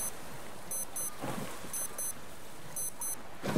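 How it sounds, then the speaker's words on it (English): A wristwatch in the survival game Stranded Deep beeps in quick high double pips, repeating three times at an even pace over a rain-like ambient hiss. "Oh, stop beeping at me."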